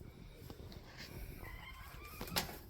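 Chickens clucking softly in a coop, with a few short, faint calls over a low background hum, and no talking.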